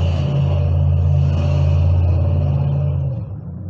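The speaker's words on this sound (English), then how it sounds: "Truck." A truck passes close by with a loud, deep droning engine rumble that holds steady, then fades quickly as it moves away.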